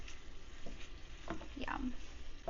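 Beef chorizo fries over medium heat in a pan, a faint, even sizzle with a few soft stirring scrapes near the middle, quiet and close, no speech.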